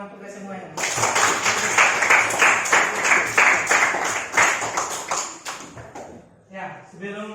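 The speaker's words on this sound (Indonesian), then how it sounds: "tepuk tangan untuk kita semuanya" A classroom group applauds together at a morning lesson, steady dense clapping that holds for about five seconds before fading, then a voice resumes.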